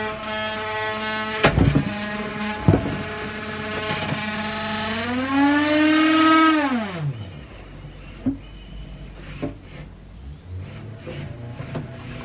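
A combat robot's spinning weapon tears into an old robot chassis, a loud whine that rises and swoops before cutting off, followed by scattered metallic hits and rattles.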